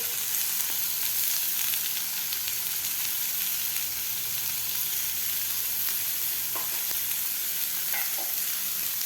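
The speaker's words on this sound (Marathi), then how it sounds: "मसाल्यामध्ये आपल्याला हे व्यवस्थित परतून घ्यायचा आहे" Pumpkin is stir-fried in a spice masala, giving off a steady close sizzle and hiss, with occasional light scrapes of a stirring spoon.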